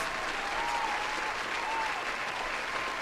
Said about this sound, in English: I did win, and therefore, I get a round of applause.